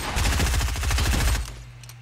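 A loud, rapid burst of automatic gunfire in Fortnite Battle Royale, dozens of close shots in quick succession lasting about a second and a half before cutting off.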